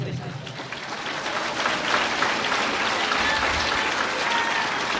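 A church congregation in Sucre, Bolivia bursts into loud, sustained applause, dense clapping filling the room throughout with a few voices mixed in.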